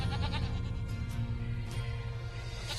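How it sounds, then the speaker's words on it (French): Goats bleating in a low, muffled, noisy scene, with a few faint bleats rising over a steady rumbling background, no talk. "Des chèvres, encore des chèvres et encore."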